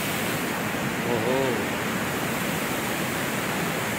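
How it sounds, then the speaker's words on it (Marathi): Small river flowing through a Konkan forest during the monsoon, a steady broadband rush of water that fills the whole clip, with a brief voice calling out near the middle. "ही आमची धाकटी नदी आहे"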